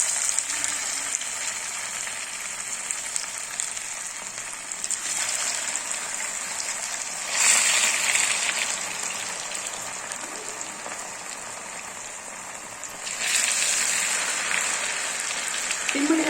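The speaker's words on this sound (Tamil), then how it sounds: "மீனை போட்டு பொரிச்சு எடுத்துக்கலாம்" Sankara fish frying in hot oil, a steady hiss and sizzle that runs throughout, swelling louder twice in bursts before settling back to a constant crackle.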